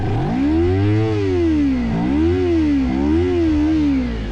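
A 2024 KOVE 250RR motorcycle engine revs to around 8000 rpm, its note rising and falling in three loud, close blips with a deep, full tone and no speech.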